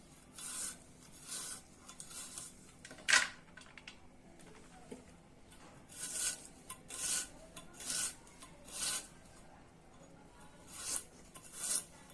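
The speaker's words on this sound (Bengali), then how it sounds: "এখন মরিচটা ডলে নিচ্ছি।" Soft, repeated rasping and rubbing strokes as chili is rubbed by hand, in an irregular rhythm, close and quiet, with an occasional sharper scrape.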